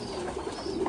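Pigeons on a pigeon farm coo softly in low, rolling murmurs over a faint steady background hiss, one brief bout with no voices.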